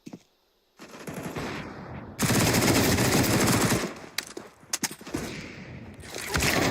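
Heavy automatic gunfire from a shooter video game roars in long sustained bursts after a brief quiet start, broken by a few sharp single shots before the firing resumes loudly.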